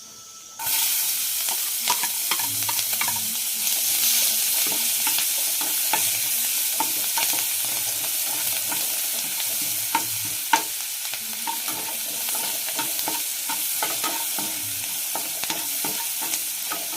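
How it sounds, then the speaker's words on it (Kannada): Onions frying in hot oil in a pan with spices for an egg curry, a steady loud sizzle throughout, broken by frequent scraping and clinking stirs, close up with no talking. "ಈರುಳ್ಳಿನ ಒಂದು 30 ಸೆಕೆಂಡ್ ಫ್ರೈ ಮಾಡಿ ಸಾಕು."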